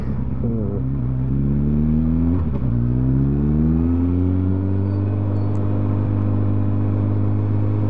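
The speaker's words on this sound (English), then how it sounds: "That's something you don't see every day. An old car in Stavanger." An old car drives past on a street in Stavanger, its engine rising and then easing into a steady, close rumble with shifting whirring tones as it goes by.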